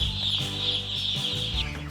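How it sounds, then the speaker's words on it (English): Chickens and freshly hatched chicks on a farm give a continuous mass of high peeping chirps with clucking underneath, loud and close with no talk over it. "today she's up to her bootstraps in chicks, fresh from the hatchery"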